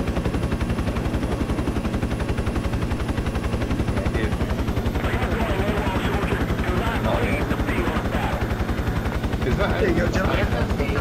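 A helicopter in the Project Reality military game, steady rapid rotor chop throughout, loud and close as it comes in to land, with voices talking over it in the latter part.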